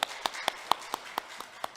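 A church congregation at a Korean Baptist Sunday service claps in welcome, a faint, steady run of single sharp claps spaced about a quarter second apart.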